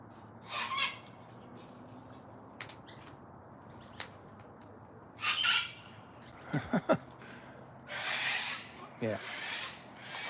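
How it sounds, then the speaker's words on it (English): Cockatoos or lorikeets let out several sharp, harsh squawks in scattered bursts, some near and loud, others fainter, with quiet gaps between and a person talking softly in the background. "Always a squawk before they take off."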